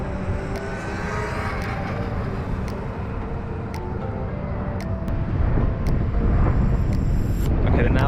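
A stock Sur-ron and a 72V Bafang BBSHD electric bike accelerate in a rolling race, with a loud, steady rushing drone of motors and wind that builds slightly toward the end.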